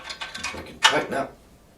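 Ratchet tightening bolts on a Hyundai HYT140 garden tiller during assembly: a few quick metallic clicking bursts followed by a louder ratcheting sweep, close and crisp, then fading.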